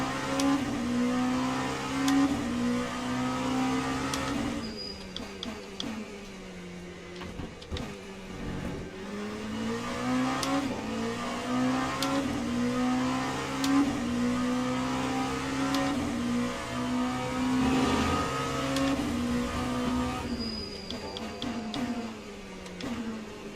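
LMP2 prototype race car lapping Imola in the Le Mans Ultimate racing game, a sustained engine drone rising and falling through upshifts and downshifts, with brief dips under braking, close and steady throughout.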